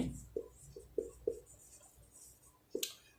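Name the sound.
writing a math solution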